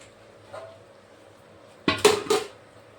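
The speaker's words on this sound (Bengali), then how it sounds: "গ্যাস অফ করে এখন আমি একটা পাত্রের মধ্যে নিয়ে নেব।" A cooked jackfruit and prawn curry is scooped from a wok into a bowl: a quiet stretch, then a cluster of two or three loud, close metallic clanks and scrapes of utensil against cookware.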